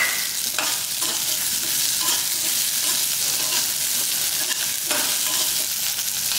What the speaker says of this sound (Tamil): போட்டு எல்லாத்தையும் நல்லா வதக்கிக்கலாம்.